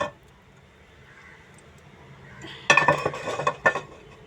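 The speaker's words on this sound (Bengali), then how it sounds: "এবারে এটা বসালাম, সসপ্যানটা বসালাম।" A saucepan set down on a stove and handled, with sharp metallic clanks and clinks in a short burst near the end after a quiet stretch, close and fairly loud.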